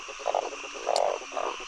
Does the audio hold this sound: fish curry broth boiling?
no